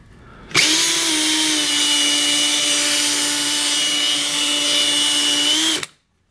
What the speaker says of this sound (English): So I'll test the piece on the drill.